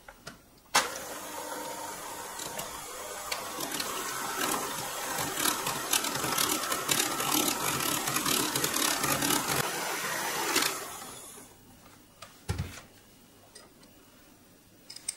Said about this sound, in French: Je vais déjà fouetter un petit peu les jaunes et ensuite j'y mettrai le beurre.